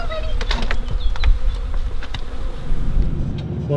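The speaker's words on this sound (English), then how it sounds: "The bees are shocking, absolutely shocking." A swarm of bees buzzing around a beach campsite near Perth, Western Australia, loud and close, with individual bees droning past in overlapping passes and rumbling wind noise underneath.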